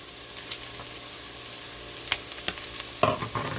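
Garlic sizzles in a pan for pizza casserole, a soft steady frying hiss, with a few sharper stirring clicks and scrapes toward the end.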